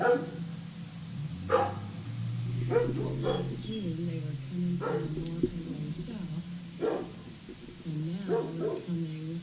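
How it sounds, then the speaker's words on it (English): Dogs barking outdoors at night, several sharp barks and yips scattered at irregular intervals, moderately distant, heard under someone talking steadily throughout. "You can hear my dogs barking."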